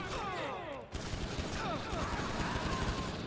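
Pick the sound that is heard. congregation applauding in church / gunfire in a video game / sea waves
gunfire in a video game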